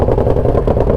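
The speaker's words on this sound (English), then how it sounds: "Let me give you guys a cold start on this friggin' beast, because this exhaust, it sounds nuts." A Harley-Davidson motorcycle fires up from a cold start on a chilly day, its loud aftermarket exhaust giving a brief, heavy, pulsing low rumble.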